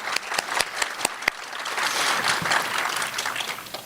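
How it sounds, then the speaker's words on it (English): Audience at a nursing graduation claps for a scholarship recipient, starting with a few sharp individual claps and building into steady, full applause. "Do you want to stand up so we can clap for you?"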